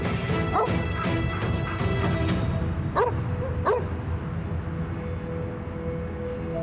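A dog barks a few times in the distance over a steady background of music and ambient noise, with sharp yelps standing out near the beginning and again around the middle.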